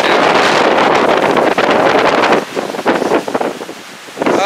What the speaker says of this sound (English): Normally this is not waves here. Actually, the water is really high right now.